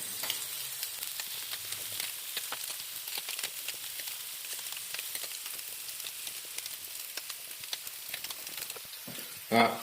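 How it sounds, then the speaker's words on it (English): Bacon, an egg and a hash brown sizzle together in an Anko 3-in-1 32cm frypan, a steady close hiss with scattered crackling pops throughout and a brief clatter at the end. "I say the bacon's going to be done first, then the egg, then the hash brown."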